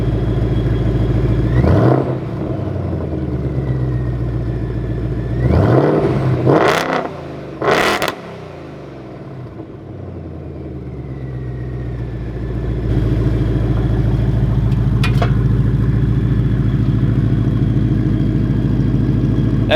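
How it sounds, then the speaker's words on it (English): A supercharged Ford Mustang 5.0 with an MBRP Street catback exhaust revs in a few sharp bursts, then settles into a loud, steady drone as it drives. "first drive with the Mbrp Street catback exhaust"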